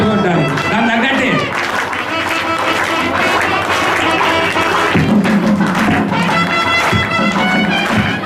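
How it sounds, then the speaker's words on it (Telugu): Rhythmic clapping from an audience keeping time with auspicious temple music at a Sri Rama Navami Brahmotsavam wedding ritual, loud and dense throughout, mixed with instruments and voices. "అమ్మా దాని తగ్గట్టు చప్పట్లు కొట్టాలి, దాని తగ్గట్టే."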